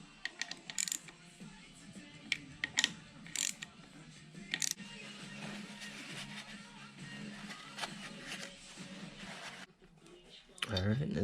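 Bolts on a Honda Grom clutch cover being tightened by hand in a garage, with sharp ratchet clicks in short bursts over steady background hum, close and moderately loud.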